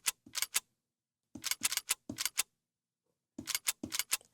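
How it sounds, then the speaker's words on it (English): Crisp clicking sounds from a Lil Uzi style beat come in quick clusters of three or four, separated by short silences, clean and close with nothing else playing. "the only other sound effect that's in here is like this clicking sound"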